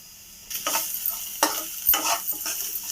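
Egg samosa filling being stirred in a pan after garam masala and coriander powder go in, a scraping, sizzling stir in close bursts that starts after a short quiet moment and repeats several times.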